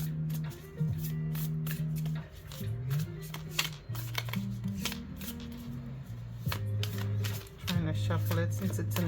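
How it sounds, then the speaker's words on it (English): A new Waite–Smith tarot deck shuffled repeatedly, crisp papery riffles and snaps coming in bursts over a continuous low musical hum. "it feels heavy when you shuffle it."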